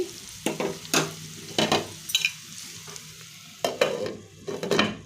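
A mix of bitter gourd and tomato sizzles in a pan on a stove over low to medium flame, with a spoon stirring and scraping in short, uneven strokes and no speech.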